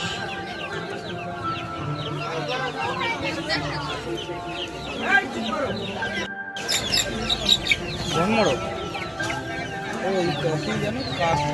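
Many young fighter-breed chicks cheep and cluck continuously up close, a busy chorus of fowl with people talking over them at a pet market.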